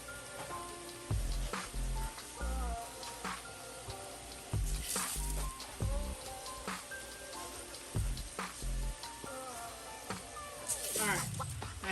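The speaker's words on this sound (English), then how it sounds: "what I'm going to do is stir it around with my veggies in here" Rice stirred with vegetables in a hot pan, five cups of parboiled rice being cooked for seasoned yellow rice, with steady sizzling and scraping under clattery kitchen noise, close and continuous, with no talk.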